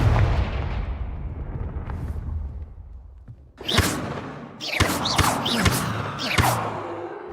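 Confringo fire spell explosions in the Hogwarts Legacy video game: a dull rumble at first, then a run of sharp, loud blasts crackling in quick succession, each with a bright burst and short decay.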